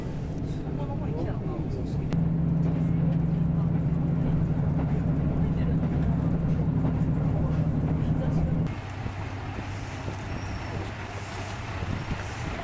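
Inside a moving train in Kumamoto, Japan, a steady low rumble and droning hum run continuously, then drop to a quieter, rougher rolling noise partway through.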